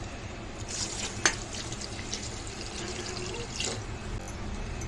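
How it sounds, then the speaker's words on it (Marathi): Three glasses of water pour into a metal pressure cooker for soybean pulao with a soft, steady splash, punctuated by a couple of clinks and a brief louder gush. "आपण तीन ग्लास पाणी टाकणार आहोत"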